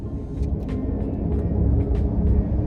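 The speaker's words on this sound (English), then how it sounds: "There's a musical note that occurs when I hit the accelerator over a certain level." Rolls-Royce Spectre under hard acceleration, a steady low rumbling drone with a faint tonal hum layered on top, heard from inside the car, continuous and moderately loud.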